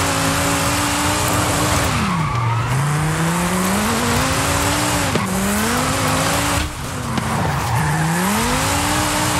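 A car drifting in the racing game Forza Horizon 5, with a continuous loud engine drone and sustained tire squeal that sweeps down and back up through repeated slides, alone without talk.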